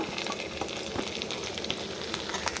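Garlic and green chilies frying in hot oil in a pan give a steady, close crackling sizzle with small pops, heard alone without any voices.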